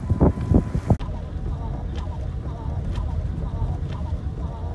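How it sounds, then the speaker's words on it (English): Strong, steady wind gusting across open ground in Harlan, Iowa ahead of a snow storm, a loud continuous roar with microphone buffeting and a few brief thumps near the start. "The wind is blasting."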